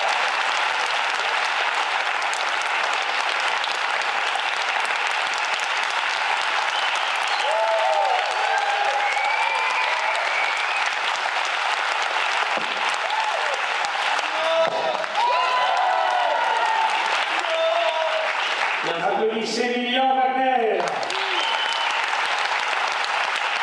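A theatre audience applauds at the end of a magic show, a broad steady wash of clapping with scattered cheers and whoops, while a few voices call out over it near the end.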